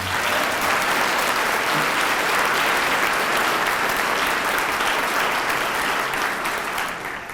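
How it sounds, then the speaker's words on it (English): A large audience at a city's state-of-the-city address gives the departing wait staff a sustained round of applause, a dense, even roar of clapping that holds steady for about seven seconds with no talking. "let's give them a round of applause as well"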